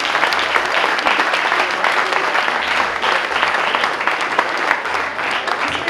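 Loud, close applause from an audience at a wine awards ceremony honouring winning wines, a thick continuous wash of clapping with slight swells and a faint murmur of voices underneath.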